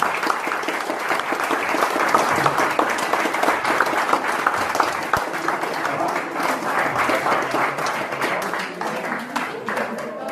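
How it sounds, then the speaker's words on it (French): Audience applause at a stage hypnosis show, loud and dense clapping from many hands that runs steadily with crowd noise and some voices mixed in. "Et on peut les applaudir bien fort."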